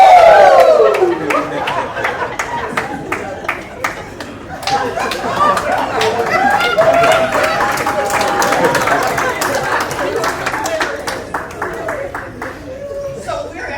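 Party guests at a mom's 85th birthday celebration break into a burst of clapping and cheering with whoops, the applause sustained for several seconds amid crowd chatter and laughter.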